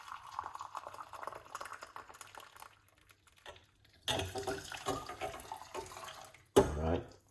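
Hot water pours for onion tea, a steady hiss and splash that stops briefly, then resumes louder and closer, with a short clatter near the end.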